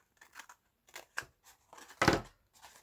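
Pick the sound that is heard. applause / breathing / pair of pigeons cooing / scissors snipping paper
scissors snipping paper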